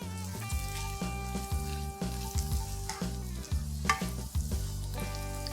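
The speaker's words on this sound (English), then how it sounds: "Give that a quick stir fry. 1 green capsicum that's also been chopped up into about 1-inch cubes." Chopped green capsicum cubes and fish stir-fry in a hot pan, a continuous close sizzle broken by repeated scraping stirs and light clatter, running alone over a low background hum.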